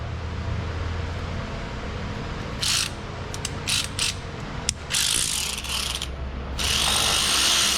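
A hand ratchet clicks in several quick bursts while driving a bolt in on an off-road-damaged Toyota FJ Cruiser in a repair shop, with short ratcheting runs separated by pauses over a steady background hum.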